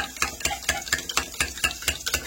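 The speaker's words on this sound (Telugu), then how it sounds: "ఒకసారి కలుపుదాం మళ్ళా. ఎందుకంటే ఉప్పు వేస్తేనే మనకు ఎగ్ టేస్ట్ అయితే కరెక్ట్ వస్తుంది అనమాట." Beaten egg with salt being stirred briskly in a bowl, a close, regular rhythm of quick utensil strokes and clicks repeating about every quarter second.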